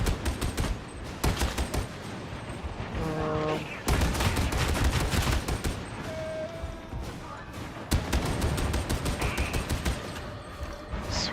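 Heavy, sustained gunfire roars from an Ogryn's braced weapon in Warhammer 40K Darktide, dense continuous volleys with brief gaps, loud and close, with game sound effects layered over it.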